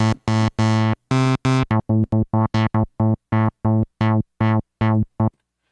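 A Future Retro Vectra hybrid synthesizer, digital oscillator into analog filter, plays its init patch: a clear run of about fifteen separate sustained notes in a steady rhythm, bright and harmonically rich, with no voices over it.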